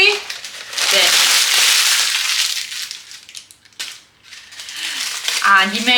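Parchment paper for baking being scrunched into a ball by hand, loud close crackling and crinkling in bursts with a pause midway, followed by a brief voice at the end.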